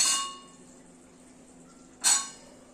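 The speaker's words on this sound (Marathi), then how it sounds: "त्यानंतर आपण झाकण काढूया." A lid is lifted off a pan of simmering veg Kolhapuri, with a metallic clink at the start, a quiet hiss between, and a second sharp clang of the lid.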